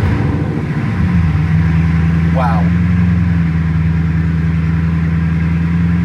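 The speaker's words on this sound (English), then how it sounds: "the engine sounds very, very loud" A Bugatti Chiron Sport in matte black exposed carbon starts up and idles indoors in a showroom, a loud steady low engine drone holding throughout after an initial rise, with a person's exclamation over it.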